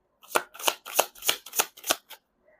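Tarot cards being shuffled by hand, six crisp riffling bursts in an even rhythm, close and clear, followed by a brief soft tap.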